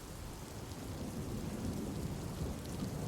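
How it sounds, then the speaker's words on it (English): Thunder rumbling and cracking overhead during a heavy rainstorm, a dense continuous roar with rain beating on surfaces, fairly loud and alone, with no voices. "So the thunder is cracking right overhead."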